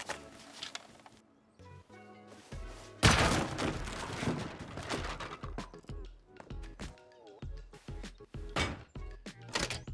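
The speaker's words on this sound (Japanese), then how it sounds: "銃声してるな" Gunfire rings out in the survival video game Rust as a scattered series of sharp, thudding shots of uneven spacing and loudness. Some of the shots come in quick bursts.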